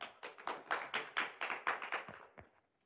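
Audience applause welcoming a speaker to a talk on science and religion: roughly ten quiet, evenly spaced claps in a steady rhythm that trail off into silence.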